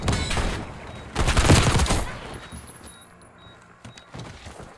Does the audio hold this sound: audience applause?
no